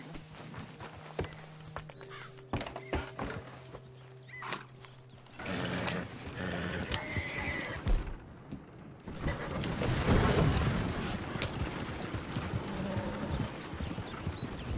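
Horse hooves clip-clop on the ground in Red Dead Redemption, a close and uneven series of steps mixed with mechanical clatter and the horse's brief restless sounds.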